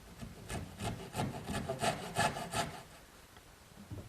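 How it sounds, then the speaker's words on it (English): A small dovetail saw cuts a corner notch in a wooden rail for a kitchen dresser, giving about eight quick, even rasping strokes up close, then a quieter pause. "I'm going to use my little dovetailing saw."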